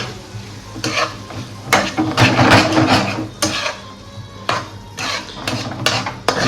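Grated paneer being tipped into a hot pan and stirred through, with a utensil scraping and clattering against the metal in bursts over a soft, steady sizzle, all close by and without talk.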